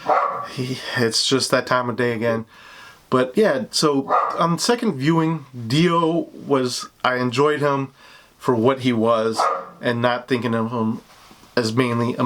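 A dog barks and yips repeatedly in the background while someone talks continuously over it indoors, the barks brief and intermittent.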